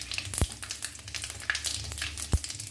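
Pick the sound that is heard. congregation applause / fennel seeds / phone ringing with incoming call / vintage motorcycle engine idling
fennel seeds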